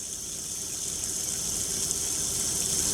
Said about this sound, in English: I'm going to show you the hot water works